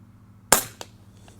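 A single sharp, loud crack from an Airmaks Katran PCP air rifle in 4.5 mm caliber rings out against quiet surroundings. A faint secondary tick follows a moment later.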